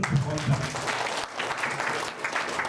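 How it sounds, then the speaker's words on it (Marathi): Applause from a crowd at a school reunion, dense clapping that holds steady for a few seconds with a brief dip midway. "जोरदार टाळ्या वाजवा"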